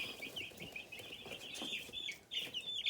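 A flock of forty meat birds, chickens, clucks and chirps softly at a distance, with overlapping high cheeps and brief calls forming a faint, continuous murmur.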